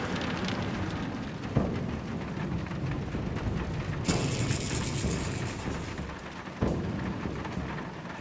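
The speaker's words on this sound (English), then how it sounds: "And the rain is coming down something horrible now." Heavy rain pours down during a thunderstorm in the Great Karoo, heard from a car parked at the roadside as a dense, steady hiss, with a few sharp cracks and rumbles of thunder breaking through.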